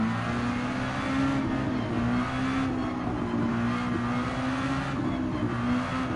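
Subaru WRX Group 4 race car engine in Gran Turismo 7, a sustained loud droning engine note holding steady pitch with slight rises and dips, no talk.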